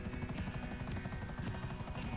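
Helicopter flying in the video game GTA V during a race, a steady rhythmic rotor chop with a buzzing engine drone, moderately quiet and continuous, no talk over it.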